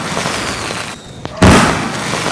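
Fireworks going off in an Indian Bike Driving 3D video game during a Diwali celebration, a dense crackling barrage with a short lull and a sharp pop before another loud burst of bangs.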